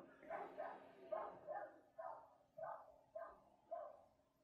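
A dog barks outdoors in a steady series of about eight sharp barks at roughly even spacing, somewhat distant and moderately loud, with no talk over them.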